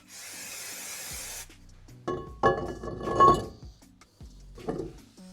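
Brake cleaner sprays onto a brake disc for a 5-cylinder-swapped Mazda MX-5 Miata in one short, close hiss, followed by scattered metallic clinks and rubbing as the part is handled.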